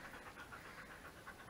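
A dog pants rapidly and steadily on a very hot day by a backyard pool, the quick rhythmic breaths faint and close, with no talking.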